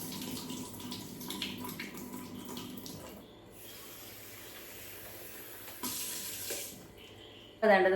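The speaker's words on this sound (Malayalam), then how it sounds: "അതാണ്ടത് നന്നായിട്ടൊന്ന് കഴുകി എടുത്തിട്ടുണ്ട്" Running tap water over nuts and dates being washed in a sink, a steady close flow with brief pauses and a clatter near the end.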